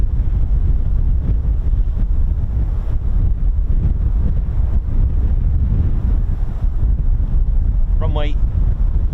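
Strong gusts buffet the microphone on a very windy day at an airfield, a loud continuous low roar and rumble that never lets up, with a brief higher chirping sound near the end.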